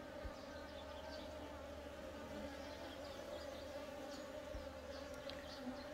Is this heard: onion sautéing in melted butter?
no